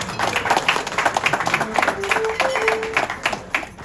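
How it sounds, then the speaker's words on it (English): Guests at a Lagos birthday dinner for former President Obasanjo break into lively clapping, a close busy patter of many hands with a brief tone sounding over it. "Please say, resounding round of applause for Baba."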